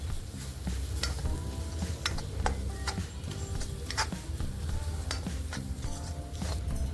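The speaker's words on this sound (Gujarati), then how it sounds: "આપણે બધા મસાલાને સારી રીતે ચમચાની મદદથી મિક્સ કરી દઈશું।" A spoon stirs potatoes and spices in a pan for dry potato bhaji, giving steady scraping and clinking strokes over a soft sizzle, close and continuous with no talking.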